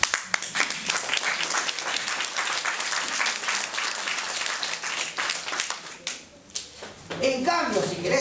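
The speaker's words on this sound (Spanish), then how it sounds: "Y ahora podés aplaudir más fuerte." An audience at a natural-nutrition training talk breaks into sustained applause, dense and steady for about six seconds before thinning out as a single voice starts speaking near the end.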